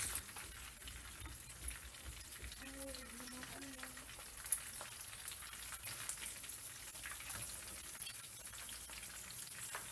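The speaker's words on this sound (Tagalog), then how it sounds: "piprituin na natin yung ating sili na binalot natin kanina sa lumpia wrapper" Stuffed chili peppers wrapped in lumpia wrapper deep-frying in hot oil, giving a steady, close sizzle and crackle with faint bubbling throughout and no talking.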